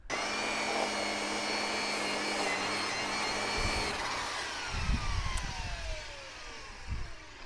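A Milwaukee weedeater fitted with a metal blade runs at a steady high-pitched whine, then drops in pitch and winds down, with scraping, rattling contact sounds near the end.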